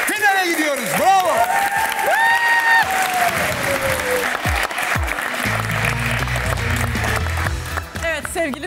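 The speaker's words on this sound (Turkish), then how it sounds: "Alkışlar hanım köylülere gelsin." Studio audience on a Turkish television quiz show applauds and cheers amid whoops, with bright musical tones and swooping sound effects over the crowd and a low musical figure coming in later.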